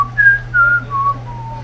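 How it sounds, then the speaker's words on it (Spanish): Whistled tone recovered as a demodulated signal in a Simulink simulation, a few clear pitched notes stepping downward one after another over a steady low hum. "observamos que el niño está recibiendo el silbido"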